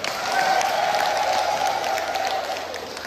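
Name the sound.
audience applause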